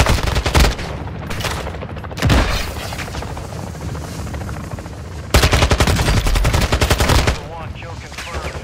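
Video game gunfire in Call of Duty DMZ: loud bursts of automatic fire and single shots, with heavy volleys at the start, near the two-second mark and from about five to seven seconds, over a steady background rumble.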